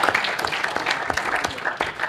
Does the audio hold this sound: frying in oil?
no